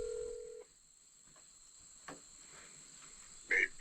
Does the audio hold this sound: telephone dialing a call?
yes